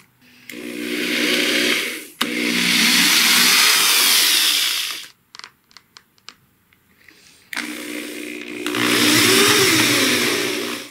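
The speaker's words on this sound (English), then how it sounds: "And then I'm just going to drill new holes." A power drill whirs loudly in three long bursts drilling new holes in an AC side panel, rising and falling in pitch, with a few short clicks and taps between runs.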